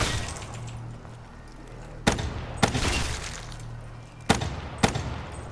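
Call of Duty Black Ops 3 gameplay with several sharp gunshot cracks spaced a second or so apart, standing out over a constant bed of game noise and low hum.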